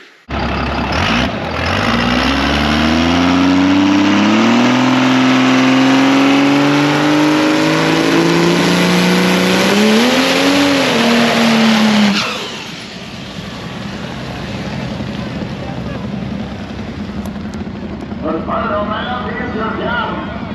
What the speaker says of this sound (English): So we go up and we roll in to do our burnout and take the tree.